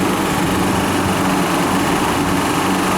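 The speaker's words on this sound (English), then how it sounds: "So that compressor's weak. It's still running." A weak refrigeration compressor runs with its suction valve shut, giving a steady, loud, close mechanical drone with a buzzing hum and no change over the stretch.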